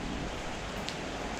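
Heavy rain falling outside a house in strong wind, a dense, steady hiss of drops that stays constant throughout without any voices.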